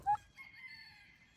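Hand-raised turkeys calling, one brief sharp high cry followed by softer warbling gobbles, close by and alone.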